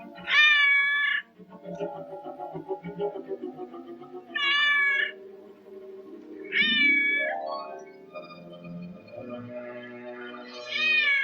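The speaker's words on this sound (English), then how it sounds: "Lost that cat. I swear I put her out." A cat meows repeatedly in a 1944 Sherlock Holmes film, loud drawn-out cries coming in several separate bursts over a muffled background of other sounds and a low voice.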